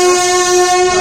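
A fully electric Kalyan locomotive on the Ernakulam–Pune superfast express sounds its horn as it departs, a loud, close, sustained tone that fills the whole brief moment.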